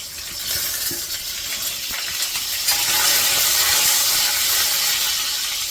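Fenugreek and red amaranth greens drop into hot oil, setting off a loud, bright hiss of sizzling that builds and holds steadily, with occasional clinks in the pan.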